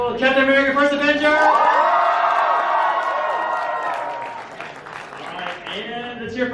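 A Los Angeles Comic Con crowd at a Marvel Infinity War panel bursts into loud applause with whoops and cheers that swell, then taper as a voice speaks over the fading clapping.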